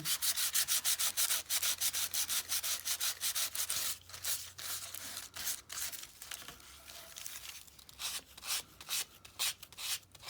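Wooden journal tags sanded by hand with light pressure: a close, steady run of rapid rasping strokes, dense and even at first, then looser and more broken toward the end, with no talking.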